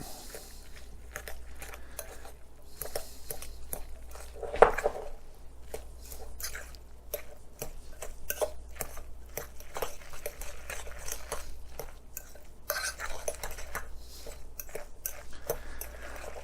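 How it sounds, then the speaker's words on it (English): A spoon stirs a seasoning mixture in a bowl before ground beef is added for red cabbage rolls, making repeated close, soft wet clicks and scrapes in an irregular rhythm with one louder knock. "Now I'm going to mix this up before I put the meat in"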